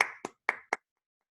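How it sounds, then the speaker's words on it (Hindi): Short burst of applause for students in a classroom lecture, four quick separate clusters of claps from a small group, fairly close, then silence. "तालियां आप लोगों के लिए"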